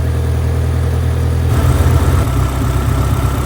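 A Renault Clio 172 engine idles nearby while warming up, with a steady low rumble, briefly growing a little rougher and louder midway before settling again.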